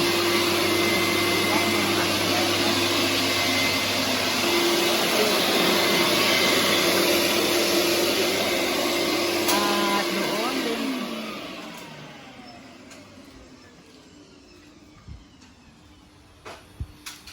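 Household air conditioning units during a service and cleaning give a loud, steady whirring hum, like a vacuum or pressure washer, that runs for about ten seconds, then cuts off and leaves quieter background with a few clicks.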